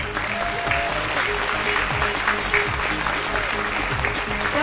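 Audience applauding contestants at the Miss Vietnamese Women beauty pageant: steady, full-room clapping that holds evenly for several seconds, with a faint murmur of voices underneath.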